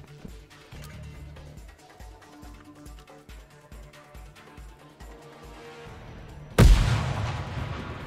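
Video game gunfire: a rapid run of sharp, evenly spaced shots for several seconds, then a sudden heavy grenade explosion with a loud boom and a long rumbling tail.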